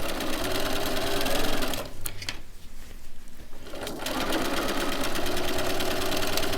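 A sewing machine stitches a seam along a fabric rib, a loud, fast, steady mechanical whirring close by that briefly slows and softens in the middle before resuming at full speed.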